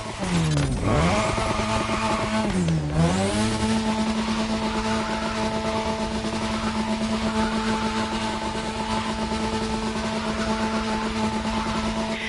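A car drifting on a drift track in a racing video game: a loud, sustained engine whine that dips and climbs twice before settling into a steady high-revving drone, close and continuous throughout.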